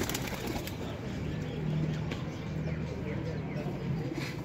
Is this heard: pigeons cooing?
yes